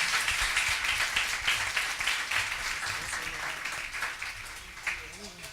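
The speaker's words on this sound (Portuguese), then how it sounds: "Receba o servo do Senhor com palmas." Church congregation clapping during a family worship service, broad applause throughout with scattered voices and a low murmur underneath, fading slightly toward the end.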